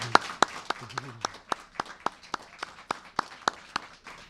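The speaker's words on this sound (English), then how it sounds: "I want to give a round of applause for Mr." Applause for a teacher at the TMA celebration comes as a faint, sparse run of sharp, evenly spaced claps, like a few hands clapping steadily at a distance.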